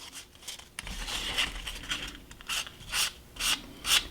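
Light back-and-forth strokes of 150 grit sandpaper across painted wooden boards on a model railroad layout, a dry raspy rubbing in an uneven rhythm, close and clear, growing more pronounced toward the end.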